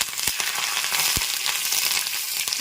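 Curry leaves and dried red chillies sizzle in hot oil for a coconut-mango chutney tempering, a continuous bright hiss close up with a few sharp crackles and pops.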